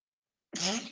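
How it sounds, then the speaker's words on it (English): A single abrupt sneeze bursts out after half a second of silence, loud and close, with a breathy, noisy tail. "And I am going to sneeze."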